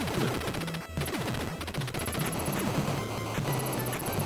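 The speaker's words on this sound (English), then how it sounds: "I don't want to lose the machine gun." Rapid machine gun fire from the retro video game Super C rattles continuously, layered with chiptune music and busy game effects, loud and steady throughout with no talk.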